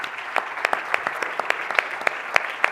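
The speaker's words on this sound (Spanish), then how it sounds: "Un fuerte aplauso para él." An audience at a medical talk on AI and diagnostic imaging applauds a newly introduced speaker, a biomedicine doctor; steady, dense clapping fills the room, with sharper individual claps popping out above the wash.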